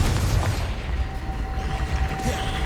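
A Confringo blast spell explodes in Hogwarts Legacy, a loud, low, rumbling boom that fills the whole clip without a clear break.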